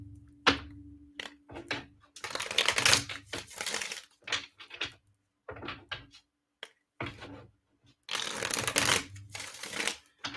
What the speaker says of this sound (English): I'm going to use the Rider-Waite. And I'm going to pull 3 cards.